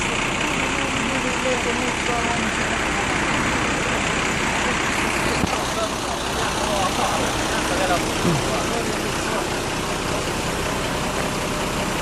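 A truck engine runs steadily, a low continuous rumble close by that holds throughout, with people talking over it.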